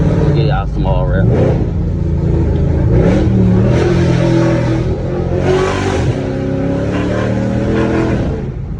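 A Chrysler 300C with a full exhaust roars loudly up close, its engine note rising and falling as it revs and accelerates, with people talking over the steady rumble throughout.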